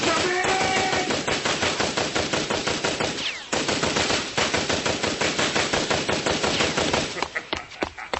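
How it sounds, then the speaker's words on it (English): A Tommy gun rattles off long automatic bursts for a radio drama shootout, rapid evenly spaced loud cracks with a brief pause near the middle before firing resumes and trails off into scattered shots. "Nice Tommy gun there, pal."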